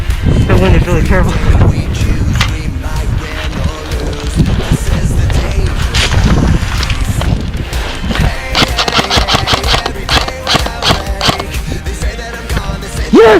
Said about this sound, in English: the wind is really terrible.